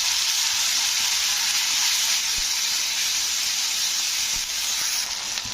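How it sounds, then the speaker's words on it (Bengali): Ginger garlic paste sizzles loudly in a pan of reddish fried onions as it is stirred, a continuous close hiss with occasional scraping ticks of the spoon. "আদা রসুনের পেস্টটা দিয়ে কিছুক্ষণ নাড়তে হবে"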